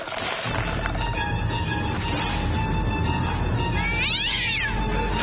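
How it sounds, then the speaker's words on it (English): Toshio the cat meows in a video game, a short rising-and-falling call standing out near the end above steady game music and effects. "Toshio, just meowing in front of my face like that"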